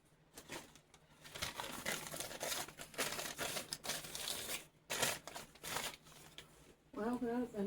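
A sheet of paper is handled and crinkled close up in a series of irregular rustling bursts with brief pauses, while a faint steady hum sits underneath.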